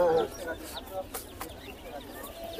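Hill chickens and tiger chickens at a rural poultry market cluck and call near the start, with a brief rooster-like tone, then scattered bird sounds continue under busy market chatter and voices throughout.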